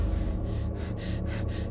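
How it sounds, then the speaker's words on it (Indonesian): Panting, gasping breaths of a person waking from a nightmare, several close, rapid heaving inhales and exhales in a quick rhythm, alone without speech. "Nafasnya terengah-engah"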